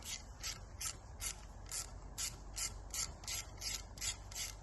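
A ratchet wrench loosens the pinch bolt that locks the hub nut on an Iveco 75E15 truck rear axle, making a quick series of close, crisp clicks in a regular rhythm with no talk.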